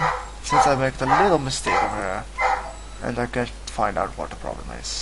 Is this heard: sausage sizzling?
no